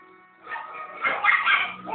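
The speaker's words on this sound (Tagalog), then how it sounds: "Ba't kumakaw yung aso?" A dog barks and yips in a short burst of several quick, fairly close barks, with people talking nearby.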